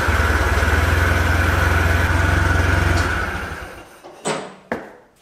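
A repaired Yale forklift engine runs with a loud, steady, throbbing idle close by for about three seconds, then winds down and stops, followed by a couple of sharp metallic clunks.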